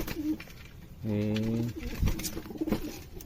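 Pigeons coo close by in a brief throaty burst, with a few softer coos and rustles around it while a person talks nearby.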